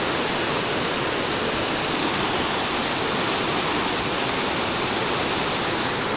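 Water rushes steadily over rocks in a stony village river beside rice fields, a loud, unbroken broadband roar with no voices.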